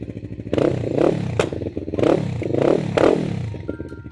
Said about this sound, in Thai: ต้องมาฟังเสียงท่อกันหน่อยดีกว่านะ ท่อเดิมผ่ามาให้นะฮะ สตาร์ทติดทีเดียวเลยนะครับผม